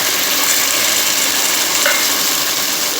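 Ginger garlic paste and tomato puree frying in a pan for a mushroom curry, a steady loud close sizzle filling the whole clip with faint stirring underneath and no talk.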